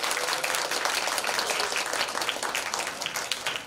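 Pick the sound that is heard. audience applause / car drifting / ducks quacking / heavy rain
audience applause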